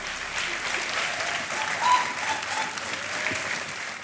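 Audience applause on the KBC quiz show after contestants win a cheque, a continuous broad roar of clapping from a large studio crowd, steady and fairly loud with a slight swell midway.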